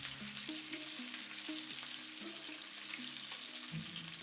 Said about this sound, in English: You can cook 2 zucchini cut into pieces in the same pan, adding just 1 pinch of salt.